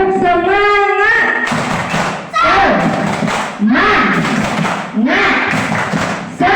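A school class performs the Indonesian tepuk semangat, a patterned rhythmic clap chant, with loud group clapping bursts in repeated phrases mixed with children's chanting voices.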